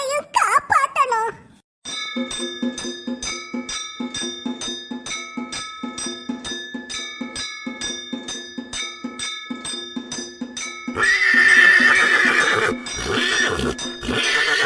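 A cartoon horse, the mount of a deity, gives a short, loud whinny at the very start, followed by a steady run of rhythmic chiming dings and a louder swell of music near the end.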